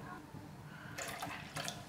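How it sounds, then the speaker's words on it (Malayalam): Water is poured in small amounts into rice flour batter for neer dosa, a soft liquid splashing that comes in two short bursts over a low, steady background. "ഇനി നമുക്ക് കുറേശ്ശെ വെള്ളം ഒഴിച്ചു കൊടുത്ത് നോക്കാം."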